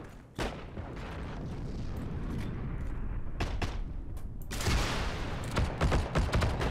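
Battle gunfire in Heroes and Generals, a continuous rumble of rifle and machine-gun shots with heavier booming bursts, loud and dense throughout and building near the end, with no voices.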